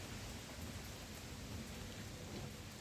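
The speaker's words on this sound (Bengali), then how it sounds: "টিপ টিপ করে বৃষ্টি পড়ে।" Light rain falls on garden plants on a wet August day in London, a faint, even hiss of drops pattering on leaves with no voices.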